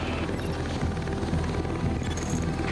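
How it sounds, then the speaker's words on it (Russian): A helicopter in The Division thrums steadily with a continuous rotor roar, loud and unbroken for a few seconds as it flies back to base. "Вертолет возвращается на базу."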